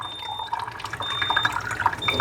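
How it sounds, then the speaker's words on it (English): An electrolyzed water machine fills a green spray-bottle container with acidic 2.5pH beauty water, a close, steady trickle and splashing pour with faint gurgling and a soft tonal whine. "I'm just going to fill up this green container."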